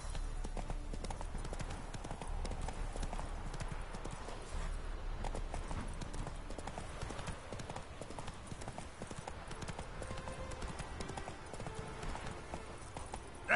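A horse gallops in The Witcher 3 with a fast, steady clip-clop of hooves on the ground. The hoofbeats are moderately loud and continuous under a low background of game ambience.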